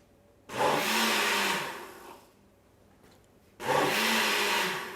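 A kitchen blender mixes pancake batter in two loud pulses, each whirring burst lasting about a second before cutting back to near quiet.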